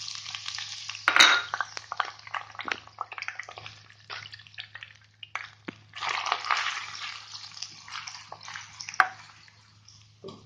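Onion added to hot oil in a frying pan sizzles and crackles steadily, with stirring scrapes and bursts of louder frying throughout; close and fairly quiet, with no talking.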